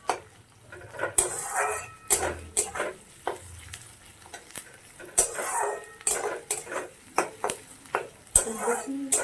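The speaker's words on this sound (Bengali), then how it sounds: "পেঁয়াজটা দিয়ে একটু ভালো করে ভাজতে হবে, একটু লাল রং আসা পর্যন্ত আমি পেঁয়াজটা ভাজবো।" Onions fry in a pan for a dhaba-style egg dal tadka, a steady sizzle broken by repeated scraping stir strokes close up, with a dog barking briefly in the background.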